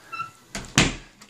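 An interior door at a residential rental property is handled, giving two quick close knocks and thumps of wood and latch with a faint tap after.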